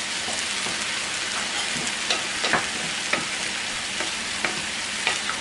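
Meat filling for spring rolls fries and bubbles in a pan, a steady close, loud sizzle with scattered crackles and pops throughout, no talking.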